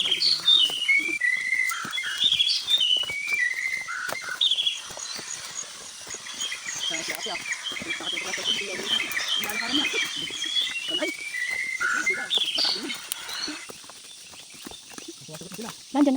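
A tailorbird call played from a cellphone inside a cave, shrill repeated whistled phrases in bursts over a murmur of people talking nearby.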